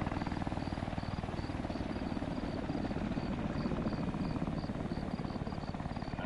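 A helicopter flies in a video game, its rotor producing a continuous rapid chopping drone that stays steady and fairly loud throughout with no talk.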